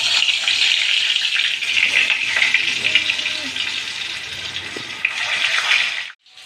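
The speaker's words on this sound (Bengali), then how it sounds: "এবার আমি কড়াইয়ের মধ্যে কিছুটা সর্ষের তেল দিয়েছি, আর এই আলুগুলোর মধ্যে যে পুরটা ভরেছি এগুলোকে একটু হালকাভাবে ভেজে নেব।" Fish-stuffed potatoes frying in mustard oil in a wok, a steady loud sizzle running almost unbroken for several seconds before cutting off sharply at the end.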